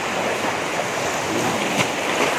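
Small, gentle sea waves wash onto a beach in a steady, soft broadband surge, with some wind noise and no voices.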